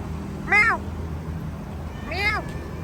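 A man imitates a cat, giving two drawn-out meows about one and a half seconds apart over a steady low engine hum, close to the listener.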